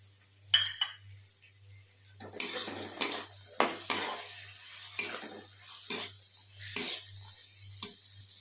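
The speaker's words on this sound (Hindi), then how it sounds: "मटर के दाने के साथ मसाले को अच्छे से भूनेंगे" Green peas and spices being sautéed in a pan over medium flame, a spoon scraping and knocking against the pan in a slow irregular rhythm over a faint low sizzle, close up with no talk.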